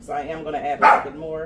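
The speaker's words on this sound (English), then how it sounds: "That's my dog saying hi to the neighbors." A dog barks at neighbors in a home kitchen while someone cooks turkey burritos, a short burst of barking breaking through steady nearby talk.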